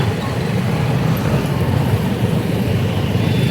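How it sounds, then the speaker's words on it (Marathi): Road traffic crowds near a Maharashtra temple on a busy amavasya day, a loud, steady rumble of engines and tyres close by, unbroken and with no clear voices. "लय गर्दी आहे आज आमुष्य असल्यामुळं बघा सगळीकडेच गाड्या आहे इथं"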